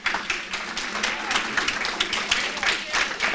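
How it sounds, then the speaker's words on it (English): Audience applause at a tenant summit: a roomful of people clapping steadily at moderate loudness, with slight swells and a few sharper individual claps over the constant patter. "While you're clapping"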